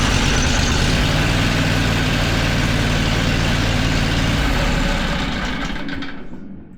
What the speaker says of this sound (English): so that way the engine should fire